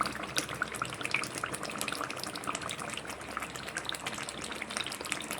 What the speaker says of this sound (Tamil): இந்த புளிக்காய்ச்சலுடைய சவுண்டை கேளுங்க.